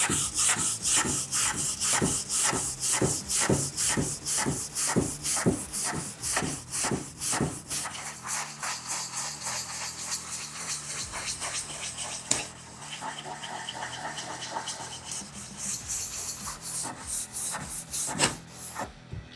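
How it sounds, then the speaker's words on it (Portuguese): Hand sanding of restored wooden furniture pieces, a steady rhythmic rasping of abrasive rubbing back and forth across flat wood surfaces, close and continuous throughout with strokes changing pace partway. "E eu consigo fazer um lixamento onde são as peças mais retas"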